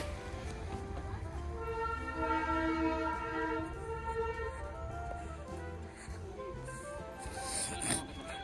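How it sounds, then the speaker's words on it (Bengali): A Darjeeling toy train rumbles past near Ghoom Monastery with a long, sustained horn blast over steady mechanical noise, faint voices and clatter in the background. "এই দেখো ট্রেনটা যাচ্ছে।"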